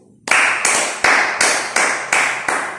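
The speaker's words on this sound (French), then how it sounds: "Applaudissez pour vous." Seven evenly spaced bursts of applause-like claps from a French motivational seminar audience, each sharp onset fading quickly, loud and close with no talk over them.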